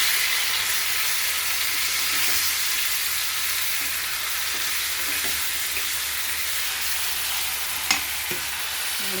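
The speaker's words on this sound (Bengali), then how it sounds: "পেঁয়াজ দিয়ে দিলাম, আদা রসুনের পেস্ট দিয়ে দিলাম" Onions and ginger-garlic paste frying in a pan give a steady, close, broadband sizzle that holds evenly throughout, with faint stirring scrapes and one sharp metallic clink near the end.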